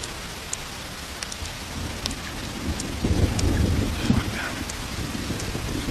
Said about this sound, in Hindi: मैंने कहा था Your Honor, आज बारिश होगी. ये तब तक नहीं रुकेगी